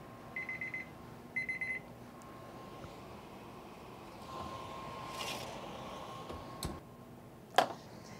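A kitchen timer set while making lollipops in a kitchen gives faint, soft ticking and two short bright ring bursts, near and fairly quiet, with some light handling noise and a sharp click toward the end.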